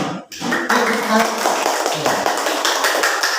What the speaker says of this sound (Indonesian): Tetap semangat, tepuk tangannya